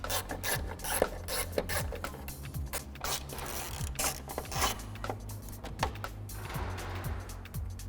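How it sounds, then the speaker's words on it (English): Ratchet with an extension bar and 8mm socket undoing the bottom headlight bolts on a VW T4 van, giving a quick run of clicking pawl strokes against a faint rasping background. "we're going to take the ratchet, extension bar and the 8mm socket, and we're just going to undo the 2 bottom bolts first."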